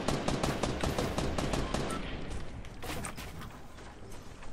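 Rapid automatic gunfire in Fortnite Battle Royale cracks out in dense, repeated bursts, loud and close at first, then easing slightly with scattered shots toward the end.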